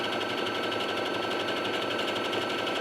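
A sewing machine runs continuously, straight-stitching a fabric flounce close to its edge, a steady, loud, even whirring hum with rapid rhythmic needle pulses and no pauses, no voices.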